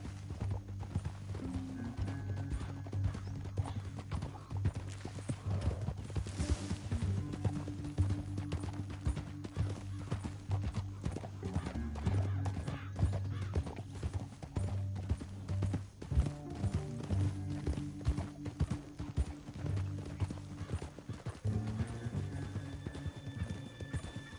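Horse hooves clip-clop steadily through Red Dead Redemption 2 gameplay, with neighs and whinnies rising over a constant, fairly loud bed of game ambience and music, nearby and continuous.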